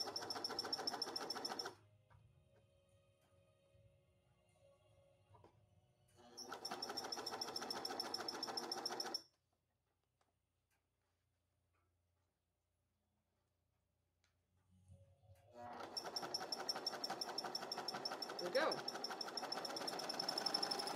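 A sewing machine stitches neon ripstop nylon saddlebags in three bursts of rapid, even ticking, stopping between runs with quiet pauses, the longest run closing the passage.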